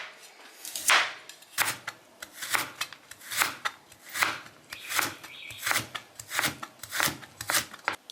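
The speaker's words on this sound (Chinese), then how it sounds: "下面的这个红萝卜跟这个黄瓜，咱都给它切成丝儿。" Knife slicing through carrot and cucumber on a cutting board, a steady series of about a dozen close, crisp chops in an even rhythm, with no talking.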